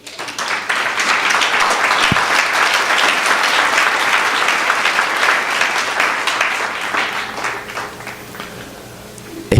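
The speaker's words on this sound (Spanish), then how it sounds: "Dale un aplauso al Rey." A church congregation breaks into sustained applause, dense clapping that swells quickly, holds for several seconds, then gradually thins out.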